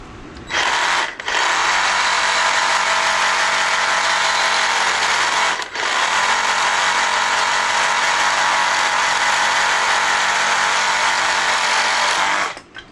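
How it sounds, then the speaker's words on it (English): A power tool grinding down a bicycle freewheel removal tool, a loud steady high whine in two long runs separated by brief pauses, alone without talk. "so I'm going to trim off a little bit from this removal tool."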